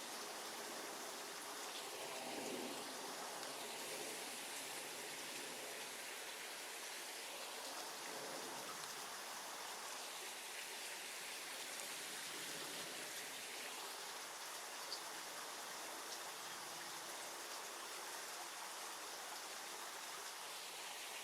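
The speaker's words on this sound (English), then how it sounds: "No wonder I can hear water much louder here" Constant hiss of water running into a drainage channel from an aquifer, pouring and splashing, loud and steady, with slow swells in tone as it drains away.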